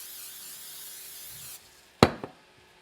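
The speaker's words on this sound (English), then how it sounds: "We're going to spray our pan." Cooking spray hissing into a casserole pan while a Mexican casserole is made: a steady, airy spray for about a second and a half that then cuts off, followed by a sharp knock and a smaller clatter.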